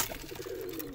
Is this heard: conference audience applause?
no